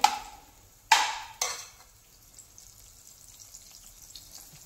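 Butter melting and sizzling in a pan for pav bhaji: two sharp bursts of frying hiss in the first 1.5 seconds, then a soft, steady crackle that fades.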